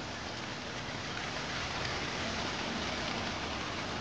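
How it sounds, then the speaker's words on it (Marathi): After heavy rain on a hill trail, flowing water rushes as a steady, even hiss, faint and continuous with no distinct gurgles or voices. "खळखळणारं पाणी, त्याच्यामधला हा प्रवास."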